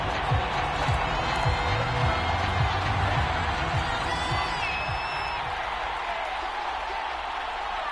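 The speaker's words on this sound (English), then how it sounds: "Plenty of shouts from this crowd as they watch the replay." A football stadium crowd roars and shouts while watching a replay, a broad wash of voices and cheers with a commentator talking over it.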